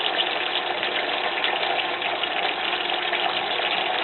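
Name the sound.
pouring balsamic vinegar into pan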